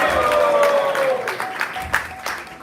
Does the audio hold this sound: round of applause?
yes